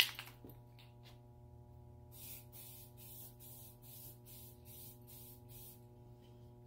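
A spray can lays down a light coat of paint in a series of short, even hissing bursts after a quiet start, each puff a second or less with brief gaps between, close by and fairly soft.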